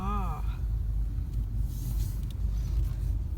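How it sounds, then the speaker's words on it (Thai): Car driving slowly through a parking lot in search of a space on a Sunday golf outing, a steady low rumble of engine and road noise throughout, with a brief voice at the very start. "เดี๋ยวกำลังขับหาที่จอดรถอยู่นะคะ"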